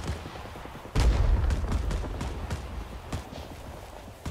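Sharp bursts of rifle gunfire in the Rising Storm 2: Vietnam game, a loud close shot followed by a rapid volley of cracks over a busy battlefield rumble.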